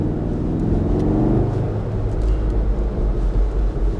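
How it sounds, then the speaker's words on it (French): A Volkswagen Golf 7R's engine hums low and steady from inside the cabin while driving in normal mode, a subdued rumble with road noise and no talking. "On entend un peu le moteur."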